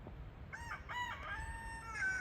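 A backyard rooster crows once, a clear cock-a-doodle-doo of rising and falling notes, moderately close over a quiet outdoor background.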